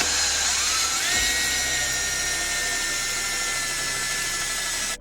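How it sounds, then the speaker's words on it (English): A power drill whines steadily at high pitch, drilling a 10mm hole for a ZipBolt banister fixing, spinning up and holding a constant tone close by for several seconds, then cutting off. "what we're going to do is just drill our 10mm fixing in now"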